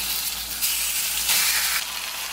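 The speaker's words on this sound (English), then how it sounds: "hopefully you guys can hear me over the sizzling of the chicken" Chicken sizzling in grapeseed oil in a pan over medium-high heat, a loud, steady frying hiss with brief surges, close by and alone with no talk.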